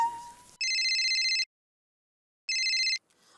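Telephone ringing in a home, two bursts of a classic electronic bell ring separated by a second of silence, loud and close, with a short voice before the first ring.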